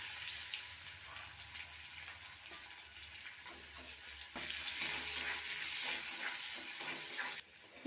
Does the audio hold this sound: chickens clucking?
no